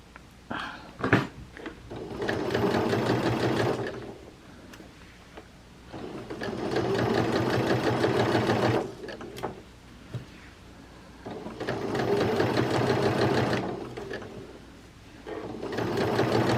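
Sewing machine stitching seams on a Simplicity 8612 garment, running in three long steady bursts of rapid mechanical whirring separated by quiet pauses with small handling clicks.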